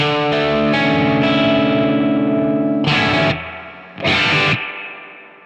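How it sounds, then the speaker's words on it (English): Electric guitar played through a distorted amp with the amp's built-in reverb, sustained chords ringing and then two short loud stabs that die away into a soft reverb tail, with no talking. "There's something about reverb that's in the amp, the way it blends with the upper harmonics of the distortion."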